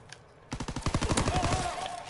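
Rapid automatic gunfire from a World War II video game, a sustained burst of closely spaced loud shots starting after a quiet half second and continuing to the end.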